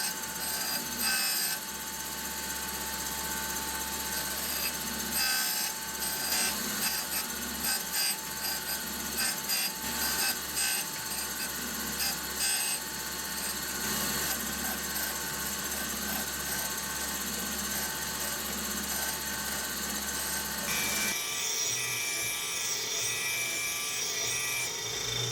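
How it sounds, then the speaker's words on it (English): Magnetic surface grinder grinding the second side of a steel part, a continuous gritty, hissing grind with a steady motor hum underneath, close and unbroken, shifting to a thinner whine near the end. "now I can grind the second side"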